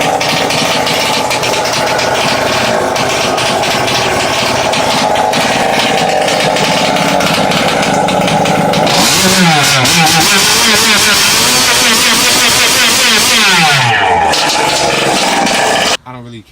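Go-kart engine with an aftermarket exhaust pipe running loud and close, a steady buzzing idle that revs up and down in rising and falling sweeps midway, with a dirt-bike-like rasp, cutting off abruptly at the end.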